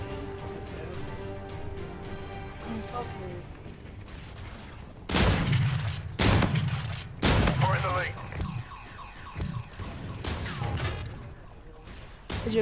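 Bursts of cyclone gun fire in a hardcore-mode first-person shooter match ring out in loud clusters over a low game background hum, with quieter shots scattered between them.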